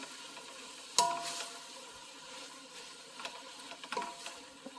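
Radish and beef are stir-fried in a pot, giving a faint sizzle under a sharp utensil scrape near the start and a few softer clinks and stirring scrapes afterward.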